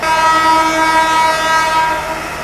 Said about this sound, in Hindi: प्लेटफॉर्म नंबर 7 पर आ गई है पवन एक्सप्रेस